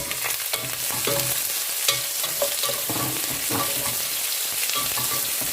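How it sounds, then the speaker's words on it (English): Onions frying in hot oil for chicken curry, a loud dense sizzle right up close with repeated spoon-stirring clatters and scrapes against the pan, no talking. "oil is hot, so I'll put now my onions"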